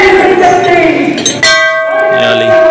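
A newly hung temple bell at a mountain cave shrine rings out with bright metallic strikes that leave a long, sustained ringing tone, with voices and people moving around nearby.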